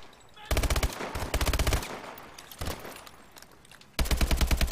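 Rapid automatic gunfire from Call of Duty: Advanced Warfare crackles in loud close bursts, a short volley, another after a brief pause, a single shot, then a final sustained burst.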